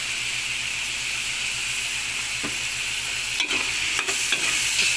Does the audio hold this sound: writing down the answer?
no